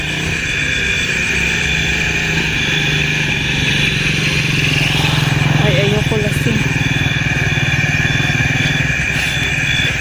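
A continuous motorcycle engine hums nearby at a steady pace, with a brief voice surfacing midway over the drone.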